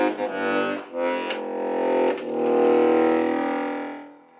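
An accordion sounds a deep, sustained low chord with rich buzzy overtones, swelling and briefly dipping between bellows pushes, loud and close with no talking.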